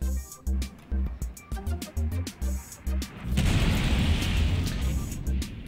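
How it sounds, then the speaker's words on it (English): A SAS-4 missile launches in a space combat video game, heard as a series of short, punchy thuds followed by a sustained loud roaring rush that fills the rest of the moment. "we are shooting one SAS-4 missile."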